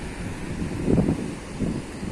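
Steady wind buffeting the microphone with a low surf rumble swelling twice at Watu Karung beach, no voices, continuous and fairly close.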